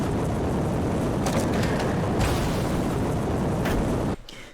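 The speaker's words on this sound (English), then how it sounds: "Now we have quite a special weapon, the Flamethrower." Flamethrower firing in the video game Generation Zero, a continuous loud roaring whoosh of flame held steadily for about four seconds before cutting off abruptly.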